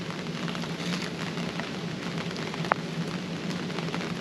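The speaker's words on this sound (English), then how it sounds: "now that it is sufficiently raining" Steady rain patters on surfaces around a truck camp in the woods, a dense, even hiss with one sharp nearby drip or tap partway through and no voices.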